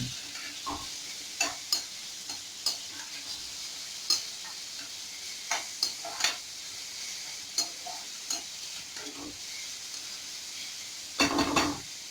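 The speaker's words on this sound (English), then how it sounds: "Now they are frying the onion." Steady sizzling from onion frying in a pan for cauliflower varuval, with regular scraping and tapping of a utensil stirring it, close and continuous.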